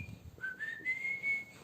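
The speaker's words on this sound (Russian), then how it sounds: "Она от твоего свиста с ума сходит." A person whistles a rising, sliding tone that steps upward in short held notes, clear and close, with faint room noise and no talking over it.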